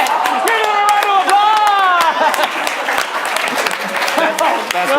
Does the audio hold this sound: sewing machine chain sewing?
no